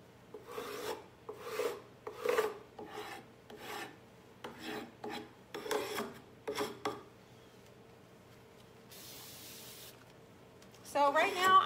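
A putty knife scrapes and rubs over freshly rewetted paint on furniture, blending and distressing the finish in a series of short, rasping strokes. The strokes are close and soft, then pause before a final few scrapes.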